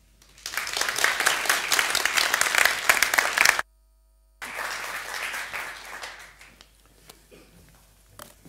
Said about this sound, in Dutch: Graag een hartelijk applaus voor Jos de Mul.